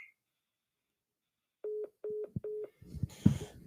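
Four short telephone keypad tones beep in an even rhythm as a call is being ended, followed by a burst of muffled clattering and handling noise.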